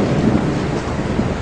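Thunder rumbling with rain falling, a short, dense, steady roar of weather that fills the whole moment, with no voices.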